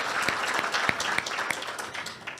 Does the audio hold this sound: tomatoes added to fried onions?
no